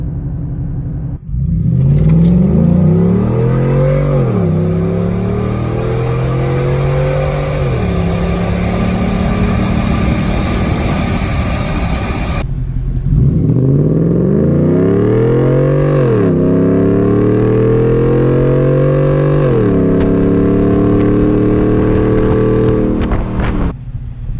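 A Ford F-150 pickup with a Coyote V8 engine revs hard and pulls through two loud acceleration runs, the engine note climbing through several gear shifts on each run, with a brief lull between them.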